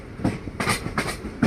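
An intercity train from Mangalore Central to Coimbatore rolls along the track, its wheels giving a quick clickety-clack of several sharp rhythmic bursts, loud and close as if heard from on board.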